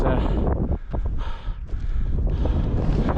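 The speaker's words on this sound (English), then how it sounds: "Clouds have come right in, wind's come right up, and it's raining a little bit." Loud gusty wind buffets the microphone at Grisedale Tarn during a wild camp, with light rain falling, rising and dipping in strong surges, with a voice talking over it.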